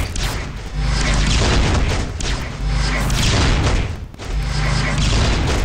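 Skill attack in Marvel Future Fight summoning cones that all fire, heavy booming blasts in three sustained bursts with brief dips between, loud and dense with crashing impacts.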